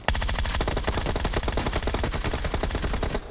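Rapid automatic gunfire in the mobile battle-royale game PUBG Mobile, a dense steady burst of closely spaced shots lasting the whole few seconds, loud and continuous with no talk.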